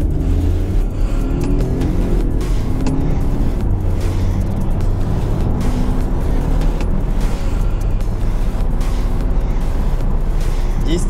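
A BMW F30 318i sedan with a 136 hp engine pulls hard in a 0-100 km/h run, its engine droning and rising in a continuous loud cabin rumble, with a voice talking over it.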